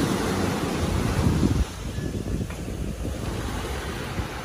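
Strong waves surging along the gray sand shore of Manila Bay during a typhoon, a loud continuous roar of surf with heavy wind buffeting the microphone, swelling in the first moments then settling into a steady churn.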